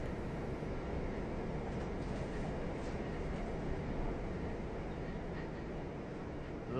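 Metro train in Perth, Australia, a steady, continuous rumble and rattle of rolling carriages heard from inside, even in level and moderately quiet, with no voices.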